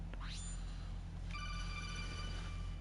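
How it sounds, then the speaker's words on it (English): A telephone rings with a steady electronic tone that starts partway through, fairly faint, over a constant low hum in a room. "Shut up, phone."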